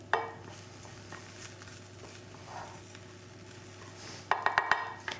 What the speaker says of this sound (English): we're just going to mix our lentils into our onions and onions and cauliflower